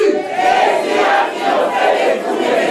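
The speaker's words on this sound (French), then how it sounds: "Criez encore très fort." A church congregation at a worship service shouts loudly together in a sustained, roaring crowd cry that swells and dips in waves, with no single voice standing out.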